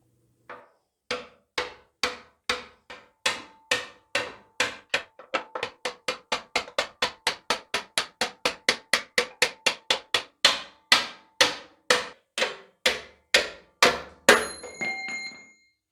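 Steady rhythmic hammer blows striking an old screwdriver used as a punch during a Honda Trail 90 restoration, dozens of sharp metallic clanks, close and loud, speeding up midway and ending in a ringing clang.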